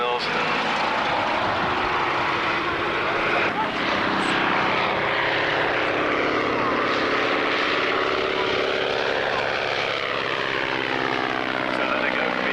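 A propeller aircraft carrying wing walkers pitches up and down at Coningsby Airshow 1993, its engine droning and swelling steadily while a commentator talks over it.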